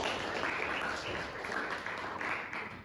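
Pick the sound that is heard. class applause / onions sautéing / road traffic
class applause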